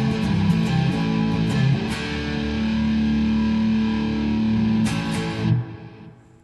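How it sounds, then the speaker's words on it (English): A Dillion DFB 603RX electric guitar on its neck pickup plays sustained, thick distorted chords with a warm, saturated tone, ringing steadily before a final strum fades out. "let's hear what it sounds like when we add a little gain or distortion"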